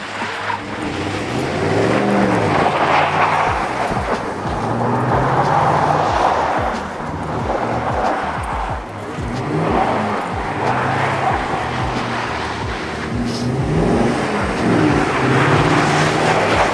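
A truck drifting on a track, its engine roaring steadily and loudly throughout with rising and falling revs as it slides, close and continuous with no talk.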